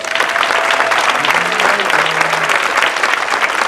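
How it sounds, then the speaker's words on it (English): An audience at a civic forum on Newark's future claps for the panelists, loud, full applause that stays steady throughout, with a few faint voices calling out beneath it. "Hey, let's clap it up for our panelists."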